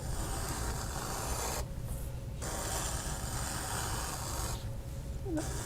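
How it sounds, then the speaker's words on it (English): Leather lace pulled briskly through punched holes for buckstitching, a steady close rasping rub that runs continuously with two brief pauses. "you can really pull your lace through there fairly fast"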